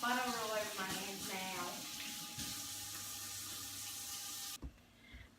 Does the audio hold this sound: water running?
yes